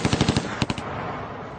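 A rapid burst of machine gun fire from a moving car onto a street in East Harlem, about five quick shots, then a brief second volley of three, fading into echoing noise.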